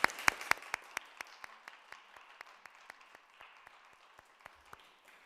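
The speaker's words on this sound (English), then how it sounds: "I would like to give a round of applause for the winners of this prize" A small audience claps for prize winners at the closing ceremony of the Franklin Institute Teach & Learn master's programmes: sparse, fairly quiet individual claps at a steady pace, fading and thinning over a few seconds.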